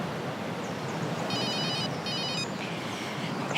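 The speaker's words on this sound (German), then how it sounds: "Ricardo, Geh ran." A mobile phone rings with two short bursts of a bright electronic trilling tone, moderately near, over a steady low room hum with no talking.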